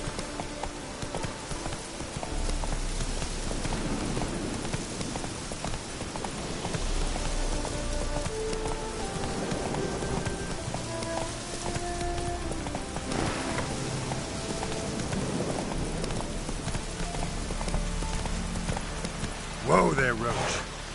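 Roach, the horse in The Witcher 3, galloping with a steady rapid clip-clop of hooves over a constant rain-like wash of ambience, someone speaking briefly over it.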